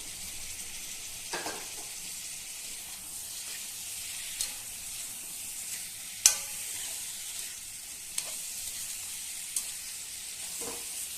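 Jackfruit fries in a pan with a continuous soft sizzle and hiss, steady and fairly quiet, broken by occasional light clicks and scrapes of stirring.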